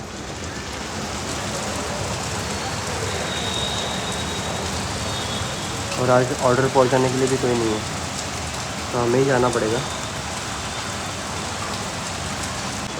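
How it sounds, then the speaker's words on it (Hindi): Heavy rain pours steadily with a dense, hissing roar throughout, while someone speaks briefly in two short bursts beneath it. "लेकिन बाहर तो बारिश चल रही है बहुत ज़्यादा"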